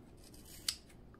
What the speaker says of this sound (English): now what we're supposed to do with our super duper sharp scissors is